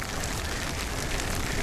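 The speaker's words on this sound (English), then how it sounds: "no other crazy people out in this rain like me" Rain falls steadily while cycling on a bike with fenders at night, a dense continuous hiss of drops and spray, loud and close, with no talk.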